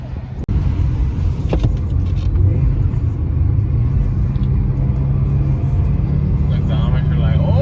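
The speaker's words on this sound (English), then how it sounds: "Look at that car, very fast." A fast car roars past on a road in Mexico, a steady loud engine rumble mixed with wind noise that builds slightly toward the end.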